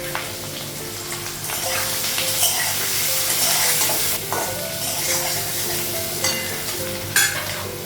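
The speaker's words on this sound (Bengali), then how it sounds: "আলুটা ভাজা হয়ে গেছে, তেল লাগাবো।" Potatoes fry in oil in a hot wok-style pan in a home kitchen, giving a steady, close sizzle with stirring scrapes throughout and brief louder crackles.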